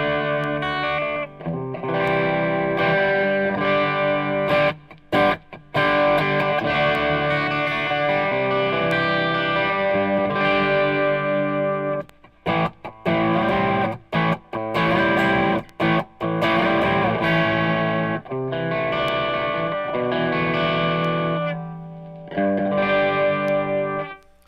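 Electric guitar played through a ProAnalog Dual Drive overdrive pedal with the gain turned up, giving a thick, beefy distorted tone in strummed chords and riffs with short pauses, loud and up close.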